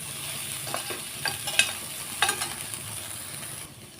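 Onions and tomatoes soften in oil for a mutton kulambu, stirred in the pan. A steady sizzle carries scattered scraping strokes of the spoon against the pan, and the sound drops away near the end. No one talks.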